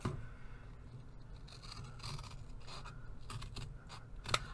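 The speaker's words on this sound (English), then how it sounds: "I can't even cut a straight line with the scissors" Scissors cutting paper for a junk journal, faint intermittent snips and scraping rasps in a quiet room, with a sharper crisp cut near the end.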